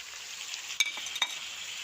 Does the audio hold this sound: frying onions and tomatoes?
yes